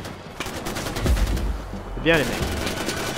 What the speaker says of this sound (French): Qui c'est qui tire comme ça?